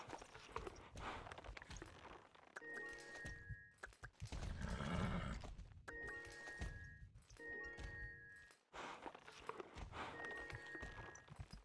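Star Stable Online horse whinnies and hoof clip-clops in a rhythmic game loop, with repeated neighs at steady intervals over a dense game soundtrack, fairly quiet.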